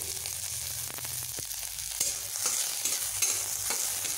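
Chopped chilli, ginger and nigella seeds fry in a little oil while a utensil stirs them, giving a steady close sizzle with scattered scraping clicks and no voices.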